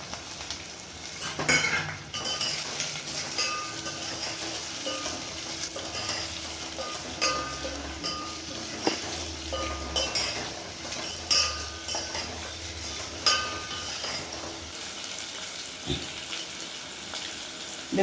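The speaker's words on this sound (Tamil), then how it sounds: "வெங்காயத்தை நல்லா வதக்கணும்" Sliced onions sauté in a pan with mustard seeds and cumin for poori masala, a steady sizzle running throughout with repeated scrapes and clinks of a stirring spoon against the pan.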